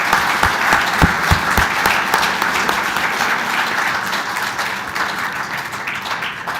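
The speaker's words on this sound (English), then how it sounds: "let us have a big round of applause for today's moderator" Audience applause at a naval aviation seminar: dense, steady clapping from a sizeable crowd, loud and sustained for several seconds with a few sharper individual claps early on, no talking over it.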